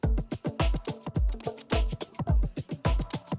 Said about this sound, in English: there's a section here where I turn on this phaser flanger